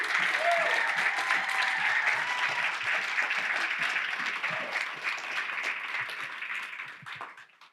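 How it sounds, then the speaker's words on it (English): An audience applauds panelists at a recovery night event, a dense sustained burst of clapping that gradually fades out toward the end. "give us a round of applause for our panelists"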